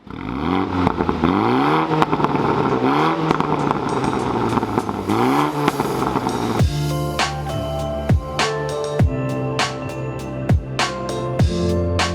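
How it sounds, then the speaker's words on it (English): A modified 2019 BMW M135i idles with a few rising and falling revs, then is blipped sharply several times in a row, loud and close. "we'll let it warm up and then we'll give it some revs"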